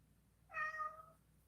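A single drawn-out cat meow, rising and then tailing off over about half a second, close and clear above a faint low hum, with no talking.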